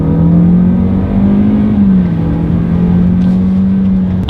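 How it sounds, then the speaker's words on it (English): A 2019 Lexus UX 200 accelerating hard in sport mode, its engine producing a loud, steady drone that rises slightly and then holds a strained, even pitch from inside the cabin. "let's do a quick little acceleration here in the UX 200"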